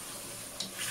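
Palm oil sizzling in a pot on the stove during Sierra Leone home cooking, a faint steady fry hiss with a brief scrape of stirring near the end, no talk.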